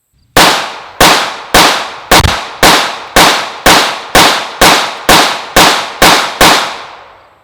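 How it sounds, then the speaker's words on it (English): Thirteen pistol shots from a CZ P-01 and a Sig P229 Legion, fired in a fast, even cadence outdoors. Each crack is loud and sharp with a short decaying echo. "how the guns control, at least in my hands, with a little faster paced shooting"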